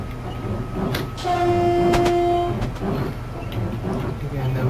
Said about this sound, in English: Again, the whistle.